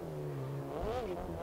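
A racing car engine in the video game GRID revs and climbs in pitch, a steady synthetic-sounding roar with a brief surge, close and continuous.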